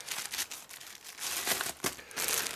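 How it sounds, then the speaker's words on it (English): Plastic packaging around a new Mastech 0-250 VAC variac crinkles and rustles as it is unwrapped, a continuous close crackle with bursts and brief lulls, no talking. "Let's see if I can get it to unwrap."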